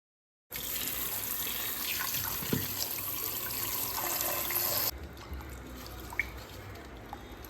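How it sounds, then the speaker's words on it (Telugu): Water runs steadily into a bowl as sweet potatoes are rinsed, with splashing and handling noises, then the flow stops and a few drips and clinks remain. "దీన్ని ఇప్పుడు ఒక బౌల్లోకి యాడ్ చేసుకొని వాటర్తో నీట్గా వాష్ చేసుకోవాలి"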